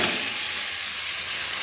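Pre-fried pointed gourd and potato pieces hit spices cooked down in hot oil, producing a loud, steady, close hiss of frying throughout.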